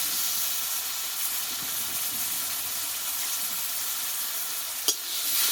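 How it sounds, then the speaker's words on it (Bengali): Panch phoron spices and chopped tomato fry in a pan while being stirred, giving a steady, close, dense sizzle that hardly changes, with one brief sharper scrape near the end. "মশলাটা একটু ভালোভাবে কষিয়ে নেবো"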